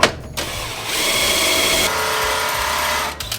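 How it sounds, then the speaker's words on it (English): A power drill whines steadily as it bores holes for bolting aftermarket eBay parts onto a Jeep, loud and close, starting and stopping abruptly with no talk. "Punch 2 holes and we bolt it."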